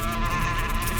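A steady, close insect buzz drones without a break, a dense tonal hum like bees swarming around a beehive, with no voices.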